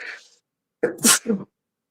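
A single sharp sneeze bursts out close by, preceded by a faint breathy sound and followed by a brief trailing vocal noise.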